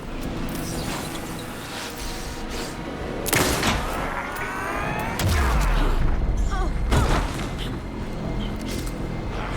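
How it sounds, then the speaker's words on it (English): Gunfire rings out in the horror video game Alan Wake 2, a loud volley of shots layered over heavy booms and a dense game soundscape. "Anderson, pin him down with gunfire for me to get the light on him."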